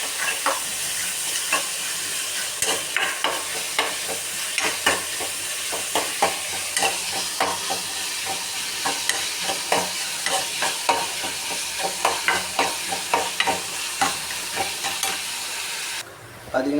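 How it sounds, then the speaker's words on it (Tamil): Mustard seeds, cumin and onions fry in hot oil with a loud, steady sizzle and hiss, broken by scraping and clattering as the pan is stirred. "இதில் நம்ம எடுத்து வச்சுருக்க கடுகும், சீரகம், வெங்காயம் சேர்த்துப்போம்"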